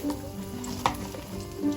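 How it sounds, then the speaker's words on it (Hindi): Maggi cheese balls deep-frying in hot oil give a steady, close sizzle with a brief sharp clink partway through, and no voices. "और इसी तरह हम बाकी की बॉल्स भी फ्राई कर लेंगे।"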